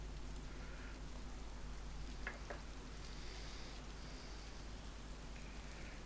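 Rain falls in the video game DayZ, a faint, even hiss of drops on surfaces with a couple of brief ticking taps partway through.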